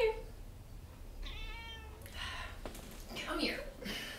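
A cat meows several times, rising and drawn-out calls close by, with a person speaking between the meows.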